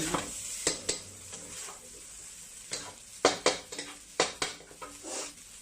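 Chicken fried rice with dark soy sauce is stir-fried in a pan over a quiet sizzle, broken by a series of sharp metallic scrapes and clatters of the spatula in irregular bursts.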